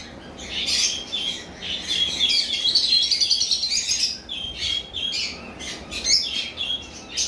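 Caged pet conures, a pineapple conure and a yellow-sided conure, chirp and squawk nearby in bright, repeated bursts, with overlapping calls that come and go throughout.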